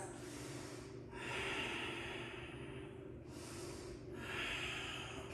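Deep breathing during a power yoga practice: two long, loud nasal inhales and exhales in slow rhythm, close to the microphone, with no talking.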